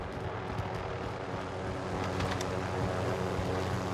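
A helicopter in Call of Duty: Warzone, its engine and rotor drone steady and fairly close, humming continuously and swelling slightly in the second half, with no talk over it.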